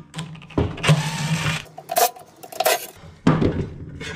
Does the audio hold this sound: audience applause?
no